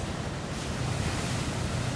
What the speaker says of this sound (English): And as you see, the waves are coming at us.